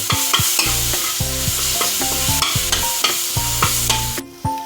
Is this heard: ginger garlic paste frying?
yes